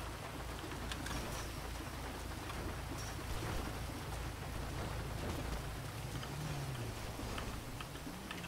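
Steady rain in the video game GTA patters densely and evenly throughout, a constant soft hiss of drops with a faint low rumble underneath.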